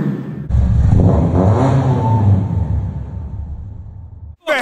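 A Kawasaki Z900 superbike fitted with a new exhaust revs loudly and close by, a sustained roaring engine note that rises and falls before cutting off abruptly near the end.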